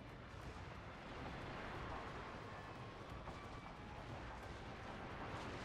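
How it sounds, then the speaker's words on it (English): Rocket artillery barrage in a video game, heard as a steady, dense roaring rumble with continuous crackling noise, sustained and loud throughout with no talking. "Oh yeah, the rocket artillery."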